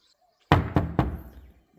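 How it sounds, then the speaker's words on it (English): Three firm knocks on a door, close and loud, in quick succession with the last ringing out briefly before silence. "Let me knock on the door and check if anyone's there."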